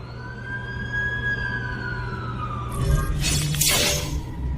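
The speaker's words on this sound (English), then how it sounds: "That's the ambulance I called." An ambulance siren wails in a steady, gliding tone over a low engine hum in a movie scene, then a burst of harsh, bright noise cuts in near the end.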